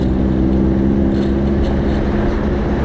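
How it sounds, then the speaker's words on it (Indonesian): A loud, steady car engine drones on a road, a constant low rumble with road noise filling the whole stretch. "Ini mobil depan dari tadi mantap juga nih suaranya."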